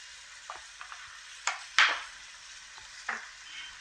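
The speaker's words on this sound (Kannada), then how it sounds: "ಇವಾಗ ಇನ್ನೊಂದು ಗ್ಯಾಸ್ ಮೇಲೆ ಒಂದು ಪಾತ್ರನ ಇಟ್ಕೊಂಡು ಅದಕ್ಕೆ ಸ್ವಲ್ಪ ಎಣ್ಣೆನ ಹಾಕ್ಕೊಳ್ಬೇಕು" Oil heating in a pot on a gas stove gives a faint, steady hiss, broken by a few sharp clinks and brief louder bursts of sizzle.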